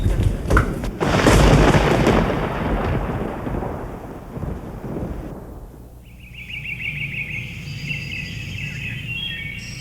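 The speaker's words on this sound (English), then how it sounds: "The storm's right over us." A thunderstorm with a loud rolling crack of thunder that rumbles and slowly fades, followed by rain and a bird chirping nearby.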